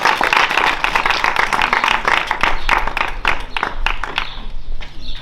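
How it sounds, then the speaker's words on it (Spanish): Live audience at an outdoor summer cultural event in Cinco Villas breaks into sustained, dense applause and clapping, loud and continuous throughout, with a few scattered voices mixed in. "A ver si le damos un aplauso"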